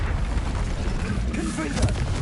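Fiery Confringo spell blasts from the Hogwarts Legacy video game burst out in loud, dense booms and crackles, stacked over a rumbling low-end backdrop with one sharper surge near the end.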